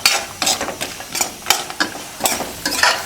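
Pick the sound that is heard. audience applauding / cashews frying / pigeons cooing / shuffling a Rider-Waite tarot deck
cashews frying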